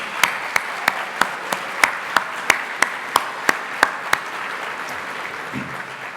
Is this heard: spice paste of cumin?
no